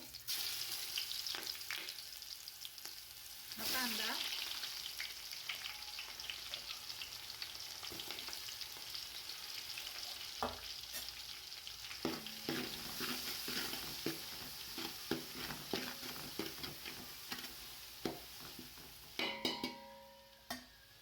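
Garlic and ginger paste frying in hot oil for a vegetable biryani: a constant close sizzle broken by frequent spatula scrapes and light clinks of utensils against the pan, with a louder flare around the start of the paste's cooking.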